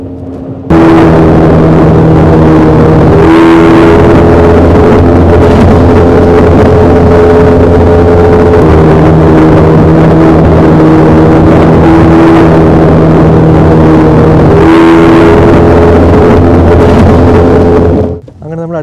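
A motorboat engine drones steadily and loudly while cruising up the Amazon river, a continuous close hum with shifting tonal layers and wind rush, lasting throughout before cutting off at the end.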